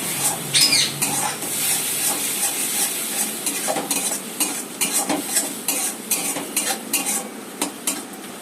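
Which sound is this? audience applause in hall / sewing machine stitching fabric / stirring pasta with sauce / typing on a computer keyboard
stirring pasta with sauce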